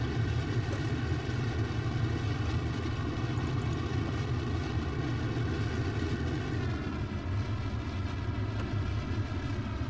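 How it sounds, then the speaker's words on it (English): Twin KS-25 rocket engines throttling up in Kerbal Space Program, a steady, loud, roaring drone with sustained tonal layers that shift slightly partway through, heard alone with no voices. "We're getting the throttle back on the twin KS25s."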